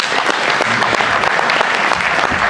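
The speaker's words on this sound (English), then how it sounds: "So please give him a round of applause if you would, the Lord Mayor." A hall full of people applauds the Lord Mayor at a press launch for the Tandragee 100 road race, producing dense, loud, steady clapping with no voices heard.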